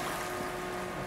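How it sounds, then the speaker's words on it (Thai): A large pirate-style sightseeing ship docks at a Lake Ashi pier in Hakone, giving off a loud, steady engine drone with a faint tonal hum and wind noise, and no voices. "เรือใหญ่มากครับตอนนี้เรือกำลังเข้าท่าอยู"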